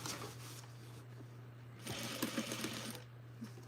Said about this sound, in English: I'm gonna start at the front, give a little back stitch, and let's try to stay on the seam